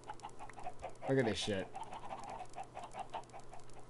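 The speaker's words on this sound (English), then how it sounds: "I'm about to breed up all these chickens." Chickens clucking and squawking in a video game, a brief burst of bird calls near the middle, set amid spoken commentary before and after.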